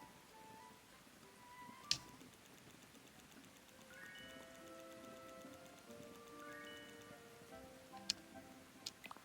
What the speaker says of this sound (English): A rainy second breakfast.